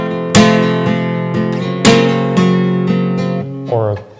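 Flamenco guitar strumming pattern mixing rasgueado flicks and a single louder accent: two sharp bright strums stand out over softer repeated strokes, ending with a quick upward flick, played alone and close.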